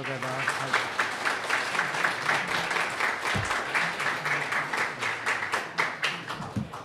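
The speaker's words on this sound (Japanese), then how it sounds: "尾又さんに、えー、皆様拍手をお願いいたします" PyCon JP audience applause for a speaker after a geospatial Python talk, dense rhythmic clapping from a crowded hall, sustained and fairly loud, with a brief low thump or two.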